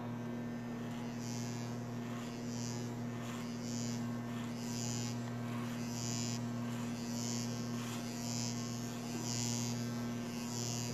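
An electric hair clipper fitted with a number 8 guard buzzes steadily at close range, a constant low mechanical hum with faint rhythmic changes as it moves over hair, no talk.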